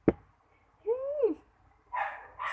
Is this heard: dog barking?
yes